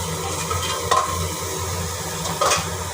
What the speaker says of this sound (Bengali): সবগুলো একসাথে কষিয়ে নিচ্ছি।